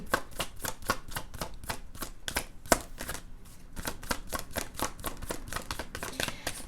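Tarot cards riffled and shuffled in a rapid run of crisp, papery slaps, close and fairly loud, with a brief pause midway before the steady shuffling resumes.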